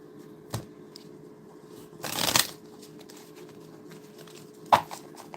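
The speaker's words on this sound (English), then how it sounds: "Having some shuffling difficulties here as I try to shuffle off to the side." Playing cards riffled and shuffled by hand during a 1986 Strat-O-Matic baseball tabletop replay, a few separate shuffling bursts spaced out, the main one longer and louder, close and alone.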